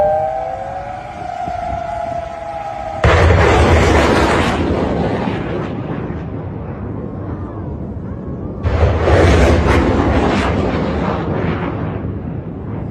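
Iranian missiles striking a US base in Qatar: a wavering siren wail gives way to a loud, deep blast that rumbles and fades, followed several seconds later by a second heavy blast trailing off the same way.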